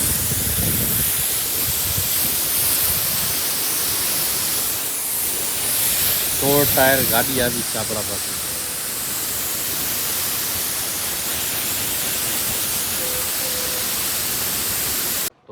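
A pressure washer sprays water at full force over a sixteen-tyre truck during rainy-season washing, a steady loud hiss filling the whole stretch, with someone speaking briefly over it.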